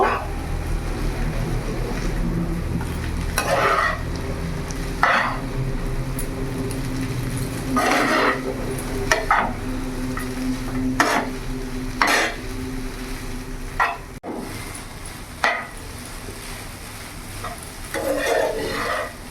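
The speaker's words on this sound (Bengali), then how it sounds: "এবার ভালো করে আমি উপর নিচ করে ভালো করে একসাথে ভালো করে মিশিয়ে নেব।" Vegetables for veg chowmein being stirred and fried in a pan, with a steady low sizzle and repeated clanks and scrapes of a utensil tossing them at irregular intervals.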